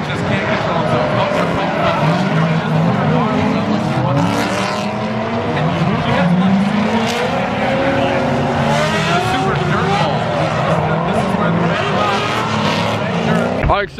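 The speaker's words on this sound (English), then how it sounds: "they have super high-speed drifting, and high-speed drifting is so sick" Drift cars at high speed on the Road Atlanta course during a Formula Drift event, tires squealing and skidding loudly and continuously with roaring engines, crowd and talk mixed in throughout.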